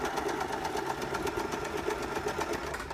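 A Janome 2032 sewing machine sews a wide zigzag stitch through fabric with a fast, even mechanical chatter of needle strokes, continuous and close for the whole stretch.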